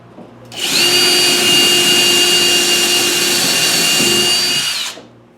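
A power driver runs a 2.5 inch screw into a wood shop storage build in a single loud, close whirring burst of about four seconds, with a steady pitch and an abrupt start and stop.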